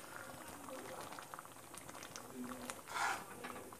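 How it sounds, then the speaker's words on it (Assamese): Lentil dal with added dried sour fruit simmering slowly in a pot, giving a soft, continuous bubbling with small pops, quiet and close, swelling briefly near the end. "দাইল লাহে লাহে উতলিবলৈ লৈছে"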